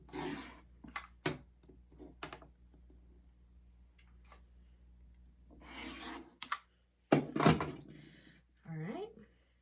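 A cutter trims the sides of leftover fat quarter fabric scraps against a 7-inch ruler, giving a few sharp, close crisp bursts and clicks between stretches of talking.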